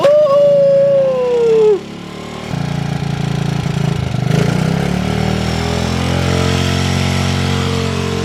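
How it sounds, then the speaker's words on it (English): A Honda CRF50 motorcycle, long unused, idles high with a steady close droning buzz after a rising whine at the start, running on alone without talk. "Why is the idle so high?"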